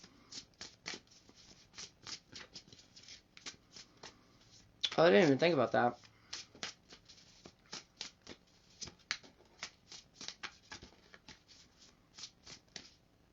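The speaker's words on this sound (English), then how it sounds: "I'm not shuffling these right." A deck of cards being shuffled, one dense burst of riffling in the middle among soft handling clicks and taps, with a person talking quietly throughout.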